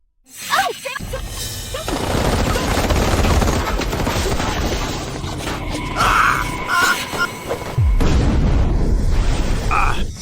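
Dense, sustained gunfire with rapid bursts and heavy booms filling the whole stretch, loud and close, with voices faintly shouting underneath.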